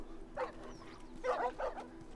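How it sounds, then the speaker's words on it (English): Dogs barking in The Last of Us, with a few sharp barks and yips in separate bursts, moderately close, over a low steady game hum. "Run, little puppers, because I really don't want to kill puppies."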